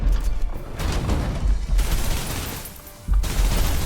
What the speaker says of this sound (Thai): ยิงเข้าแล้วเว้ย